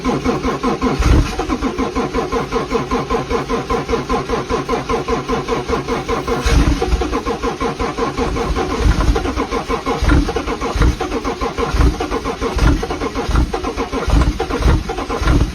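Car engine cold starting, cranking and catching into a busy, loud idle with steady rhythmic churning and a few surges, close by and with no talking.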